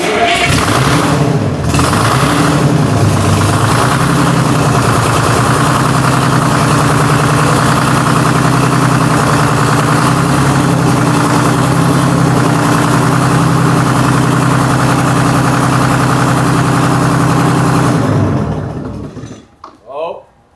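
An old, inefficiently running marine diesel engine idles loudly at a marine tech school, a steady heavy low drone that holds for most of the time and then cuts off near the end. Voices talk faintly underneath.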